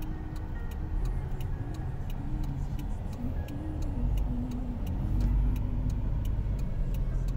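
Car driven slowly during driving practice on a quiet road, a steady low engine and road rumble throughout, with a regular faint ticking like a turn signal over it and no voices.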